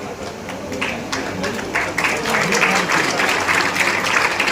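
A crowd claps steadily at an outdoor political rally, the applause swelling louder and denser. A voice carries faintly over the clapping.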